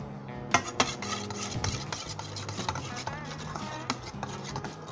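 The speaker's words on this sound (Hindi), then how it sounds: "इसे अच्छे तरीके से मिक्स कर लें।" Cream being mixed into a macaroni salad with pineapple, cabbage and apple, a spoon scraping and clinking against the bowl in an irregular stirring rhythm, close and fairly loud.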